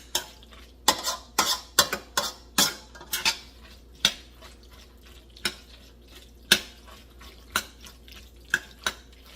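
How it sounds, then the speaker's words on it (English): A metal spoon scrapes and clinks against a metal pot while stirring no-bake mac and cheese, giving a run of sharp, irregular scrapes, quick at first and then spaced out, close and fairly loud, with no talk. "Sorry about the scraping of the metal spoon on the metal pot."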